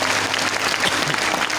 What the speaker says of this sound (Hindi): जोरदार हाथ ताली होना चाहिए